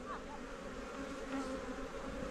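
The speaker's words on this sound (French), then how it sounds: "il y a pas mal d'abeilles dessus" Honeybees hum steadily at an opened hive in a teaching apiary, a dense, continuous close-up buzz of many insects with no talking.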